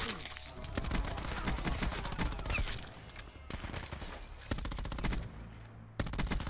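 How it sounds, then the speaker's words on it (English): Rapid SMG bursts on a large map in Call of Duty Black Ops 4, repeated automatic fire in several sharp volleys separated by short pauses, loud and close. "I'm using an SMG on a very big map where ARs are dominant."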